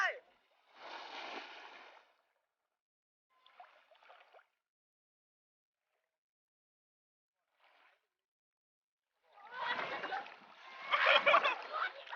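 Water splashing during an underwater distance diving contest, heard in separate bursts: a splash near the start, brief faint ones in the middle, then a loud, longer stretch of churning splashes at the end.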